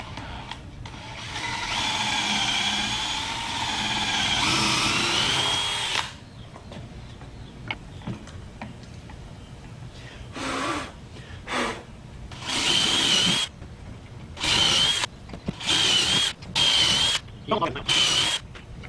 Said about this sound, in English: Grab your drill, and then make the hole.